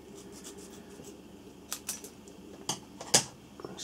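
Scissors snip open a Sugru pack along its cut line, a few sharp, crisp cuts and rustles of the packet heard up close, the loudest snip near the end, over a quiet background.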